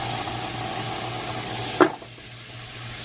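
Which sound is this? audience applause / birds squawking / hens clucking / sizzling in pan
sizzling in pan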